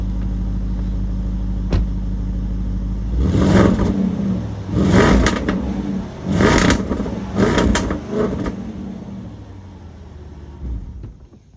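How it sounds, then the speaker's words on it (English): A 2023 Land Rover Defender 110 V8 with stock exhaust idles with a low rumble, then revs hard in four loud bursts, each falling back to a burbling idle before fading. "Next up, we have the sound from the exhaust system, so you may want to turn up the volume"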